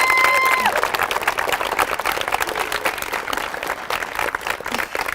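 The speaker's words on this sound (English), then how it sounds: "We'll get a clap for Aherlow." Crowd at a championship final weekend applauding a team, a steady, loud wash of clapping that holds throughout with a faint cheer underneath.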